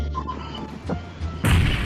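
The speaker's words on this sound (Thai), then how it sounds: "อุ้ยตกใจระเบิด" A sudden loud grenade blast in PUBG Mobile bursts in near the end, a heavy booming explosion with rumbling low end following quieter game noise.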